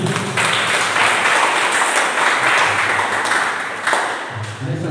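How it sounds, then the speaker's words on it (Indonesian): A congregation at a church sermon claps together, a dense, loud wash of applause that stays steady for several seconds before easing slightly at the end. "tepuk tangan dulu buat Tuhan"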